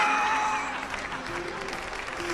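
Audience applause fills an auditorium during a live comedy and music show, loud and steady clapping that thins slightly toward the end, with a faint voice beneath.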